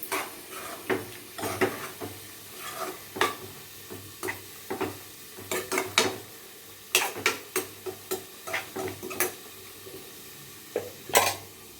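Onions and tomatoes sauté in a pan on a home stove, with a soft sizzle under repeated scraping and stirring strokes of a spoon against the pan, close and steady.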